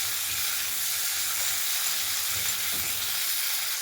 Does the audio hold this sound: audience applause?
no